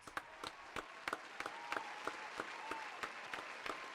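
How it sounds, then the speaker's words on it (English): Sparse, uneven clapping from a small group in a radio studio, individual claps standing out as sharp bursts spread across the few seconds, fairly quiet and close with no talk over it. "Caleb Stein, Evan Harkin, big round of applause."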